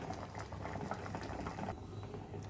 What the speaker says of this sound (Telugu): ఇదిగోండి, పులుసు మరుగుతుంది.